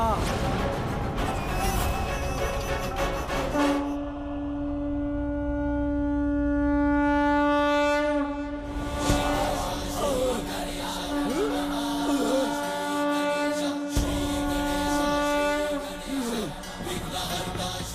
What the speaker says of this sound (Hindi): नारायण के शंख की ध्वनि है,